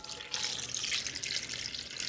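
Two quarts of water poured into a cooking pot holding halved onion, bay leaf and garlic cloves, a close, bright splashing stream that starts after a short pause and runs steadily to the end.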